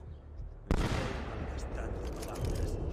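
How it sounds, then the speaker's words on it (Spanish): Gunfire in the video game Assassin's Creed II, during a fight in Florence: a sudden loud burst of shots breaks in, followed by dense, continuous rattling gunfire and commotion. "voy a empezar aquí a pegar tiros"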